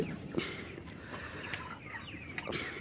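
About a thousand chickens cluck steadily in an enclosed coop in Kerala, several birds at once with occasional sharper calls, moderately close over a constant background hum.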